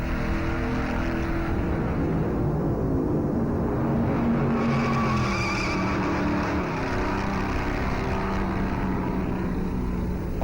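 1957 stock cars racing at the Darlington Southern 500 on an oval track, a continuous loud roar of engines blending together in a dense, steady rumble.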